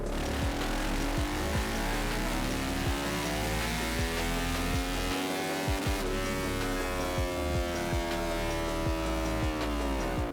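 A motorcycle engine revving steadily on throttle during closed-loop fuel tuning, a loud continuous high-revving drone with rising and falling harmonics and a slight dip midway, close and without speech.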